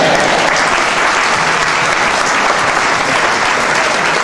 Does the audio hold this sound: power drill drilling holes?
no